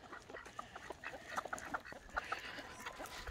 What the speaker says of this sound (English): let's feed some birds